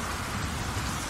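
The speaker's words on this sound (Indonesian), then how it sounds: "Paksi, aku mendengar suara hujan." Rain from a radio drama sound effect, a dense steady hiss of falling drops heard alone for about a second.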